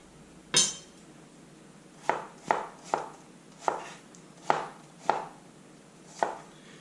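A knife, its edge finished at 325 grit, chops onions on a board in eight crisp, evenly spaced strokes, with one louder cut at the start and quiet gaps between the rest.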